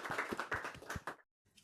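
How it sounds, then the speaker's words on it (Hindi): A small group claps together in a short, close burst of sharp handclaps that stops abruptly, followed by a brief faint trailing sound. "तालियां।"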